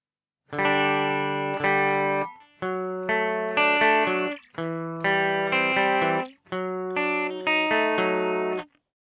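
Distorted electric guitar plays a repeating chord pattern in five or six strummed phrases, each ringing out before a short pause.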